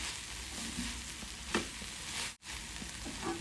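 Cooked val bean pods for bharit are stirred in a pan, a soft steady sizzle with a few light scraping strokes and a brief dip in sound partway through, with no talking.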